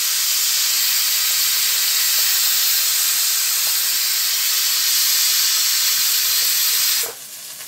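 A pressure cooker on a home kitchen stove hisses steam loudly and continuously for several seconds, a steady broadband rush that drops sharply near the end.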